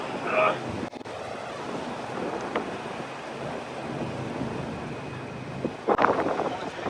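Strong outdoor wind roars as a steady broadband rush across the whole stretch, buffeting the microphone, with brief voices breaking through near the start and end.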